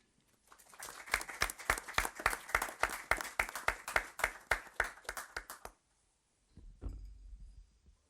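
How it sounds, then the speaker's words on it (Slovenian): A small audience at a Slovenian book monograph presentation claps, sharp individual hand claps in a quick, fairly regular rhythm that stop suddenly, followed by a brief low rumble. "Prosim, en aplavz."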